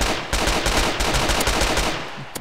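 Rapid automatic gunfire in the multiplayer video game DayZ, a fast burst of about a dozen sharp, loud shots in even rhythm, trailing off near the end.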